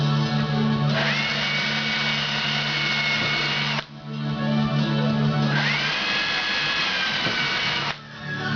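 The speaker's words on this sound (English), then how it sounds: "we've drilled all our holes with our pilot bit" A power drill with a pilot bit whirs in two long bursts while drilling holes in a floor tom drum shell, each spinning up to a steady whine and then stopping, with a short pause between them.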